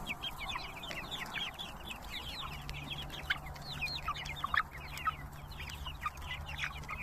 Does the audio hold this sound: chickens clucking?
yes